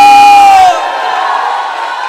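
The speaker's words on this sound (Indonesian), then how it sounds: "Beri tepuk tangan bagi dia." A church congregation at a Sunday worship service cheers and whoops loudly as a crowd, with a sustained tone fading out in the first moment before broad crowd noise carries on.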